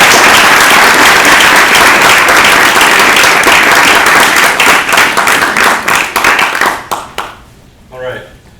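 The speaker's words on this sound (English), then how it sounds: "How about a round of applause for these panelists?" Dense audience applause for panelists at a university media institute retrospective event, loud and sustained for about six seconds, then thinning into scattered claps and fading out, with a voice beginning to speak at the very end.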